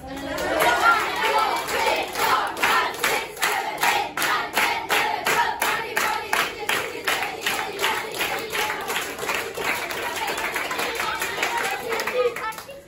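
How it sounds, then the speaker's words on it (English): A group at a birthday party claps hands in a fast, steady rhythm of many repeated claps, close and lively, with chatter and voices running underneath. "Clap your hands 30 times."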